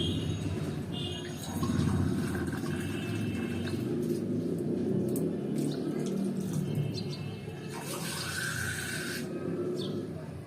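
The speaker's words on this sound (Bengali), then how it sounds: "এখন আমি ঝোলের জন্য পানি দিচ্ছি" Water pours steadily into a pressure cooker of beef for gravy, a full, rushing gurgle, then eases off as a few clinks and drips follow.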